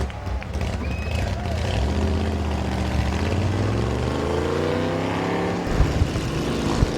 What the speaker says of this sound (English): And the sweet sound of 700 horsepower and change fires off.